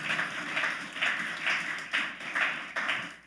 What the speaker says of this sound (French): nous avons demandé toute assemblée capable d'applaudir